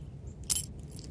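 Aluminum Ford car keys from a 1978 Mercury Marquis jangle in one brief bright metallic clink, close and fairly loud over a quiet background.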